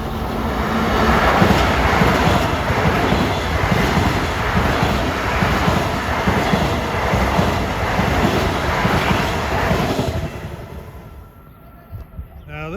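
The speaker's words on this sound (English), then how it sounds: "Next up at 6:37 is train 1064, Penn Station, Ronkonkoma" LIRR train 1064 from Penn Station to Ronkonkoma passes on the Main Line as a loud, steady roaring rumble for about ten seconds, then drops away to quieter background.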